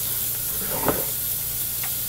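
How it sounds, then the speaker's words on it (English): Seafood for Cajun pasta sautéing in a pan, a soft steady sizzle with a brief louder stir or toss partway through, fairly quiet and without talk. "so you can see me season and saute"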